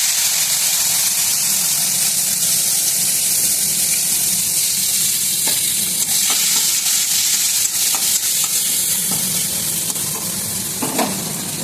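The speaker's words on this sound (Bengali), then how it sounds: "এবার আমি এখানে ফোড়ন দিয়ে দেবো সাদা জিরে, দিলাম আমি 2টো তেজপাতা" Cumin seeds, two bay leaves and chopped tomato frying in hot oil for a Bengali boal fish tel jhal, a loud continuous sizzle with faint stirring clicks and no talking.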